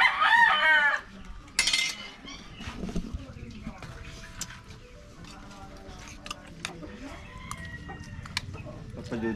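Chickens cluck and a rooster crows loudly at the start. Fainter clucking and outdoor clatter follow in a Philippine yard setting, with people talking nearby.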